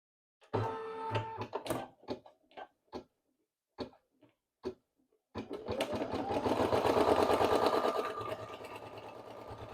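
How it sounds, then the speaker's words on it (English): An embroidery sewing machine stitches a faux chenille patch. A few separate clicks and taps come first, then a close, fast, steady mechanical whir with a rhythmic ticking. "now I'm going to go ahead and put my foot down, and we're going to get that first stitch done"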